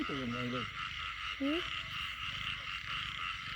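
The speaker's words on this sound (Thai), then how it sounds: "เสียงกบ" Frogs call at night in heavy rain beside floodwater, a few rising croaks early and one more midway, close by over a steady hiss of rain and insects.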